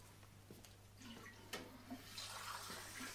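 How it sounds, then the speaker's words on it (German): A glass is rinsed out under running water in a German radio play, faint splashing and trickling with a few clinks and bursts of flow over a low steady hum, no speech. "Hier, spült das Glas aus."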